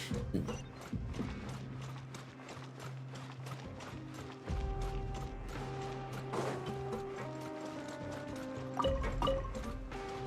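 An elevator mechanism in Genshin Impact clanks and ratchets in rapid, regular clicks over a low steady hum, fairly quiet, with occasional heavier mechanical thuds.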